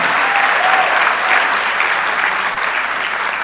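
Sustained clapping from an induction-ceremony audience of newly qualified medical and dental practitioners, greeting a new doctor; a loud, even wash of hands throughout, with a brief tonal squeak early on.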